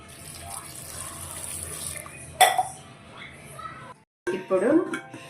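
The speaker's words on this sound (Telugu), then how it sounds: "2 గ్లాస్ వాటర్ యాడ్ చేస్తున్నాను." Water poured from a glass into a pressure cooker with fenugreek leaves, onion and lentils for dal, a steady splashing pour that stops, then a second short pour with clinks of the vessel.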